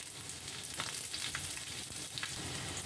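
Ginger fries in a pan with Nappa cabbage, dried shrimp and vermicelli cooking ahead, giving a soft continuous sizzle with light crackles and stirring scrapes, quiet and close with no talking.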